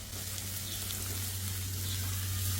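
Ginger, garlic and onion sauté in hot oil, giving a steady, even sizzle with a low background hum and no talking.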